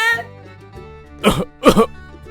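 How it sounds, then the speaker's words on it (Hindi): Two harsh coughs, close and loud, follow a fading hummed tone, with quiet low background sound in between. "अरे खांसी आ रही है तो अच्छे से खांस लो ना"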